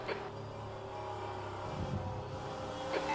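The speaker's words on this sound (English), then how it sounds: "There's a faster class car approaching." A faster-class race car in rFactor2 at Long Beach nears with a steady, droning engine that builds slightly as it closes in, heard alone without talk.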